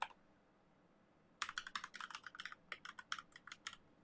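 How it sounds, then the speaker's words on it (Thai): Rapid keyboard typing starts after a short quiet pause, a burst of crisp, close key clicks in an uneven rhythm. "ได้ยินเสียงคีย์บอร์ดนิดหน่อยปะ"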